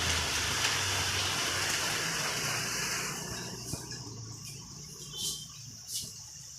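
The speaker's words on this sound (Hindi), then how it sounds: "बाहर भी वर्षा बहुत जोर हो।" Heavy rain falls outside a house, a dense steady hiss that softens partway through, with faint insect chirps and a few soft drips in the background.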